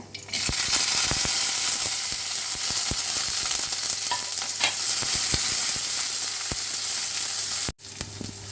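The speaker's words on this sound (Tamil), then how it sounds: "எண்ணெய் ஊற்றியாச்சு, சூடாயிடுச்சு. இந்த கீரையை பரட்டிக்கலாம். இந்த கோபிஸை, கடுகு, இந்த வெங்காயம், பூண்டு, காஞ்ச மிளகாய், கருவேப்பிலை" Greens, cabbage, mustard seeds, onion, garlic, dried chilli and curry leaves stir-fry in hot oil, giving a loud, steady sizzle broken by regular sharp scrapes of a spoon against the pan.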